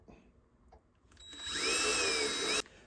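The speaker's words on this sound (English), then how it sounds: "So let's drill this out." Power drill boring into a fluorescent light fixture with a dull bit: a quiet start, then a loud, shrill whining grind for just over a second before it abruptly stops.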